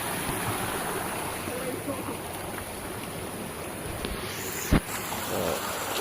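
Spring water pours from an open faucet left running under strong pressure in a rural province, making a steady, loud, close rush with one brief thump.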